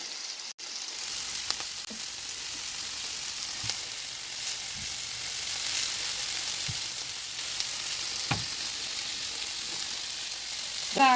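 Fresh garlic sizzling in a hot pan with asparagus, a steady close frying crackle with a few light pops and stirring taps, no talk over it.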